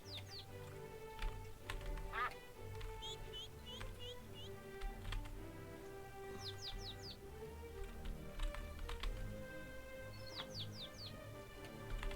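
Ducks quack in quiet, scattered bursts among chirping chicks and other farm birds in the video game My Time at Portia, over a steady hum of game background music.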